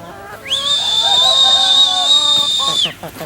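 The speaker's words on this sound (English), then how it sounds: "Since the little ones don't know what that whistle is, the big ones should come out this way." A loud, sustained high whistle blown to call backyard chickens out of their coop, one steady tone held for over two seconds with a quick rising start and a clean cutoff, heard close and alone.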